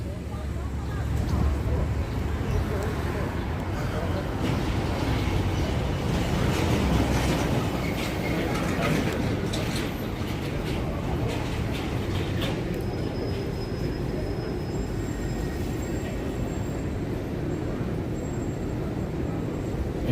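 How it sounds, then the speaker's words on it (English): A New York City 1-line subway train at the 116th Street station on the Upper West Side rumbles and clatters continuously and loudly, with wheel squeal and screeching at the platform. "And this is 116th Street, the subway station"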